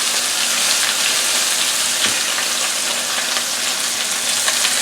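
Chicken pieces browning in a hot pan give a loud, steady, dense sizzle with a constant crackling hiss that never lets up, close and alone without any talk.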